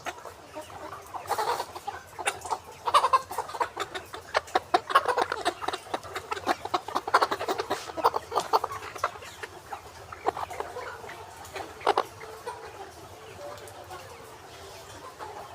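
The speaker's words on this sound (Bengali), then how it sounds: "দেখুন মুরগিগুলো" Layer hens in a poultry farm shed cluck in quick, overlapping bursts, a busy chorus of many birds close by with little talk.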